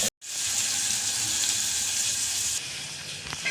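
Leftover rotli, tempered and tossed in a hot pan, fries with a loud steady sizzle after a brief silent gap, easing slightly quieter near the end.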